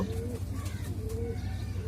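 Pigeons cooing nearby, soft repeated low coos in a short run over a faint steady background hum.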